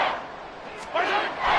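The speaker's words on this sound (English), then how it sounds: "this crowd trying to force a false start here" Stadium crowd noise from an American football video game swells as fans roar to force a false start on third and inches, a broad loud wash that surges again partway through.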